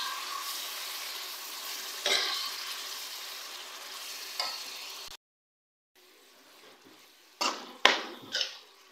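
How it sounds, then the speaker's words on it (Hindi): Keema (minced meat) frying in spices in a pan for biryani, a quiet steady sizzle with a few scraping stirs, a brief silent gap, then louder clatters of the spoon against the pan, no talking. "अब हम कीमे को अच्छी तरह से भूनेंगे यहाँ तक कि इसका कलर चेंज हो जाए"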